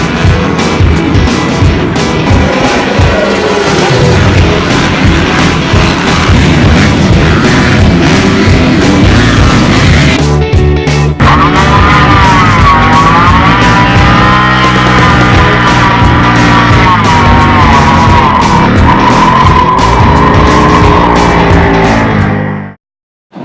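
Indian Scout 60 motorcycle ridden around Daytona, its engine droning loud and continuous with rising and falling revs and heavy wind rush throughout, ending abruptly.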